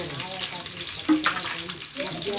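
Curry leaves, green chillies and mustard seeds sizzle in hot oil as a tempering for Karnataka puffed rice, giving a close, continuous frying hiss with scattered crackles, a sharper burst about halfway through and faint kitchen sounds underneath.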